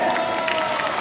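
A crowd at a Bengali film trailer launch event claps and cheers in a brief, dense burst of applause.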